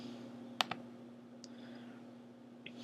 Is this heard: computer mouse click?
yes